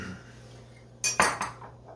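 A teaspoon of sugar added to a pot of Italian tomato and rice soup, a quick cluster of three metallic clinks of the spoon against the pot after a quiet hum, close and short, with no voices.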